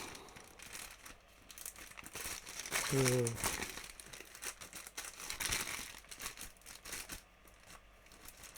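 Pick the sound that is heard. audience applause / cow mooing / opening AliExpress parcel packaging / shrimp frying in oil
opening AliExpress parcel packaging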